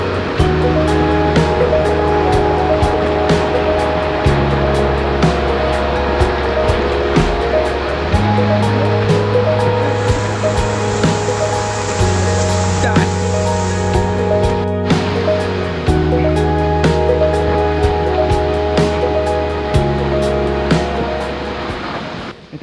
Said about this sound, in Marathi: अरे फ्लो बघा पाण्याचा